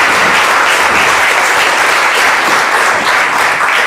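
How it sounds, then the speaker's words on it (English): Conference audience at Teksmark 2023 gives a sustained, dense round of applause, loud and even throughout with no break. "So give him another round of applause."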